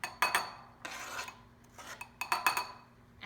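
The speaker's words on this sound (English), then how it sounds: "So you just slide in the onion, diced onion" Diced onion slides from a board into a bowl of egg mixture for egg cups, a few close scraping and clinking bursts of utensils against dishes with short pauses between.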